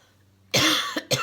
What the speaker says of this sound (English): I knew I would cough.